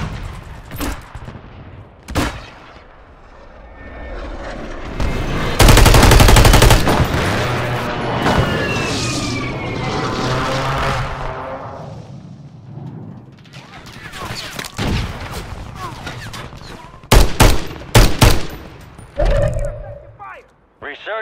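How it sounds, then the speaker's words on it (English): Airstrike and heavy gunfire in Call of Duty Warzone on Rebirth Island, with a dense roar of explosions and rattling fire through the middle, then sharp separate bursts near the end. "Friendly airstrike in the AO."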